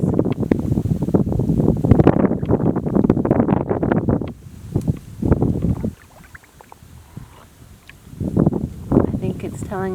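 Wind gusts through sawgrass around a paddler on an autumn outing, rushing in loud waves that ease off and build again, with some wind buffeting on the microphone and light water noise.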